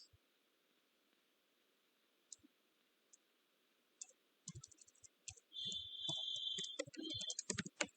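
Keys clicking on a computer keyboard while entering data in accounting software, a few sparse taps early, then a denser run of quiet, close clicks in the second half.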